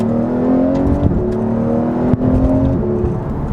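A Porsche GT3 engine revs hard from inside the car, a loud rising whine with a brief dip at a gear change before the pitch climbs again.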